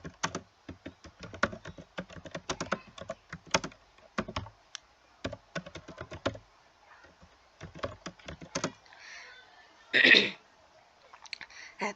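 Rapid, irregular keystrokes on a computer keyboard, close and clear, in bursts with short pauses between them, ending with one louder rustle or thump near the end.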